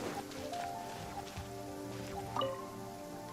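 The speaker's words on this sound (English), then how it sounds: "Oh, raining? I like when it rains." Steady rain patters and drips in the Genshin Impact video game world, a continuous wash of droplets layered over soft tonal game music. Nobody speaks.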